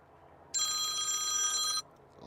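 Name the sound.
iPhone 14 Pro Max ringtone playing through the loudspeaker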